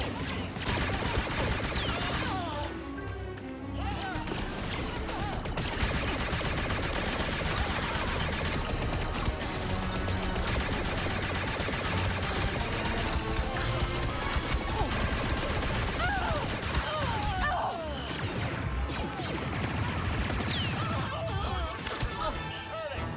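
Blaster gunfire in a Star Wars Outlaws firefight, heard as repeated sharp shots and crashes within a loud, constant wash of combat noise and music, with scattered voices.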